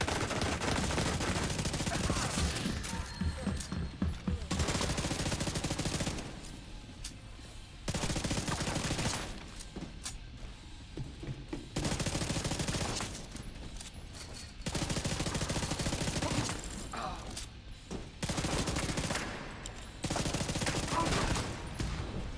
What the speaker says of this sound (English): this is the power of the Division 2's new fully automatic pistol on heroic difficulty